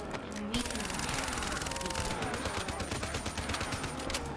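Rapid video-game gunfire from a zombie shootout in Call of Duty: Black Ops 3 (Nightmares, Hypocenter), dense bursts of shots running continuously and loud under busy game noise, with voices talking over it.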